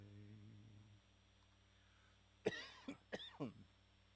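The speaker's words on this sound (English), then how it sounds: "Yeah, that's a good cough." A few quiet, hoarse coughs close by, coming in a quick cluster of three or four after a stretch of near silence with a faint electrical hum.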